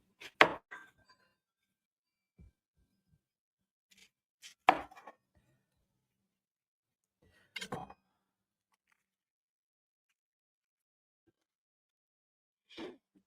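Knife slicing onions for cheesy onions, yellow and white, as four short separate bursts of cutting spaced a few seconds apart, close and clear over a quiet room.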